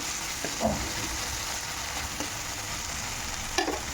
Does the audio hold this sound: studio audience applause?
no